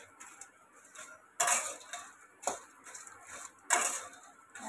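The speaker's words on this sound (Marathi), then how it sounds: "अशा पद्धतीने सर्व खडे मसाले आपले भाजून घ्यायचे" Whole spices such as cinnamon sticks are roasted and stirred in a pan, giving soft scraping and clinking strokes at irregular intervals, fairly quiet and close, with no talking.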